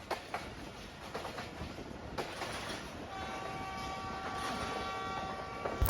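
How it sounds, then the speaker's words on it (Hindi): Sialkot Express train rolling through a populated stretch of Sialkot, a steady rumble of wagons with clicking track noise, closing into a sustained horn-like tone near the end. "आप देख सकते हैं कि ट्रेन हमारी धूल मिट्टी उड़ाते हुए सियालकोट की आबादी से गुजर रही है।"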